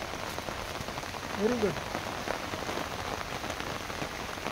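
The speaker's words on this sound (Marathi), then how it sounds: "पाऊस आलाय स्वतःच, चांगलं आहे ना" Steady rain pattering on surfaces outdoors during a village tree-planting event, a soft continuous hiss of drops with a brief voice and faint background chatter.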